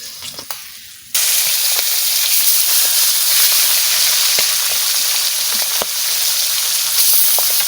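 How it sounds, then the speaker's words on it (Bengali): Oil bubbles and sizzles vigorously in a pan of magur fish and potato curry, a loud, steady frying hiss that bursts in after a quiet second and keeps going with small pops. "এত ফোটা ফুটতেছে মাসে এত তেল হয়েছে আর দমের ফোটা ফুটতেছে"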